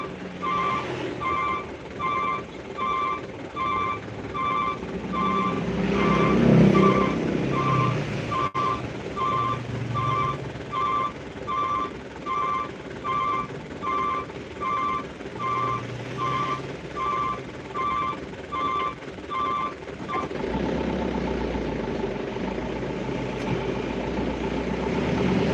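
Traffic jam on the road at Koto Baru, with a truck's reversing beeper pulsing steadily over idling engines for most of the stretch, then a lower engine rumble takes over near the end.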